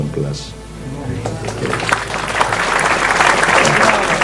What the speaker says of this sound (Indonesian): Tepuk tangan Anda ini